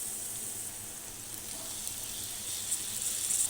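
Brinjal pieces fry in a pan of hot oil with turmeric, giving a steady, close sizzle with a faint hiss that holds evenly throughout and swells slightly near the end.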